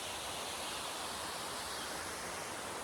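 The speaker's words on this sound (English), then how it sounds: "behind me is a cascading brook" A cascading brook flows near a campsite by Wachitawaka Pond in New Hampshire, a constant broadband rush of water with no pauses and no voices.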